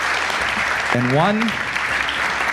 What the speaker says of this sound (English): would you please give Kevin Roberts one last round of applause?